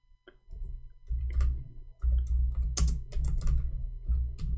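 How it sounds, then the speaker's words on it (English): Keystrokes on a computer keyboard tap out in quick, irregular bursts with short pauses between runs, moderately close and without any talk. "I hate it when I type in Arabic"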